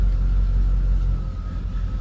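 A Cadillac Escalade with a freshly swapped two-wheel-drive setup idles in reverse, a steady low engine rumble with a faint mid-pitched hum, close and continuous throughout.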